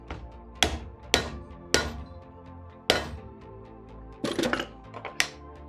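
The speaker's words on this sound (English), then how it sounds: "when in doubt, hammer time" Sharp metallic hammer blows flattening a part during a DIY CNC machine build, about eight ringing strikes spaced irregularly, with a quick cluster of lighter taps near the end.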